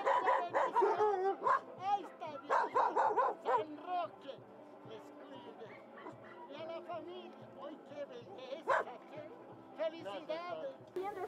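A small female dog at a San Roque feast-day pet blessing in Bolivia gives yips and short barks with some whimpering, close by and interleaved with people talking around it.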